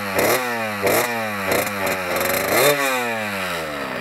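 A small 40cc Blata two-stroke scooter engine revs hard in repeated bursts, pitch climbing and falling with each throttle blip, loud and close.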